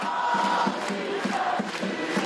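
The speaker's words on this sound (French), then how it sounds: "Une foule massive, réunie dans la bonne humeur." Massive crowd of protesters chanting in Paris at an anti-far-right march, a dense, continuous roar of many voices with rhythmic chant pulses, steady and loud throughout.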